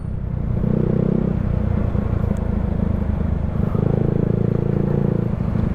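A motorcycle passes close by on a street, its engine rumbling loud and steady with two stronger surges as it goes past, no talk over it.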